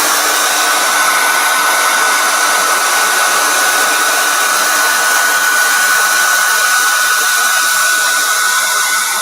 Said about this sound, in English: So I'm just going to give it a bit of blow dry.